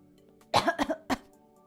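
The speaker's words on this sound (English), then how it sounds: "you're gonna have to live with me just coughing all over the place like that" A quick cluster of several close, harsh coughs, with a rough throat-clearing quality, followed by one final cough, then quiet.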